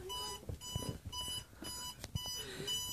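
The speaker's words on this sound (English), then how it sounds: "The alarm is going off." An alarm clock rings in repeated short bursts at a fairly low level, mixed with scattered rustling and knocking noises around it.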